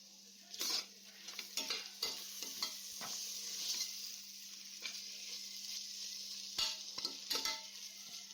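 Tomato sautés in a pan while seeraga samba ghee rice is being made. A steady, quiet sizzle is broken by intermittent scrapes and clinks as a spoon stirs, with no talking.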